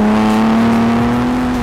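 A 2022 Ford Bronco Raptor engine runs with a loud, steady low hum and a slight rise in pitch, heard close and alone for under two seconds.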